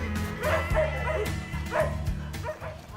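Several dogs at the Elephant Nature Park sanctuary barking and yipping in repeated overlapping bursts, heard at moderate distance over a steady hum of background noise.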